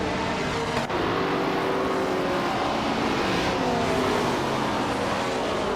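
Engines of vintage race cars, including a 1966 McLaren Elva Ford, roar steadily together at the start of a video game race at an Alpine festival, a loud continuous drone with no voices.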